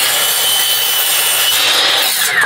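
A power tool rasps steadily through wood while furniture is built for a homemade camper van, a continuous close, loud grinding buzz lasting a few seconds with no talk.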